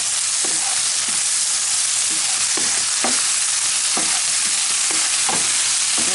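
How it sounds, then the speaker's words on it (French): A spoon stirs tomato paste into a seafood sauce in a hot pan, making a steady loud sizzle with soft scraping strokes repeating about every second, with no voices. "Maintenant, je vais ajouter 3 petites cuillères de tomates concentrées"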